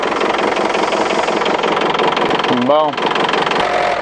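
An old 1990 Iveco Daily 35-8 diesel engine runs loudly and roughly at a steady idle-like chug, close and continuous, with brief speech heard over it.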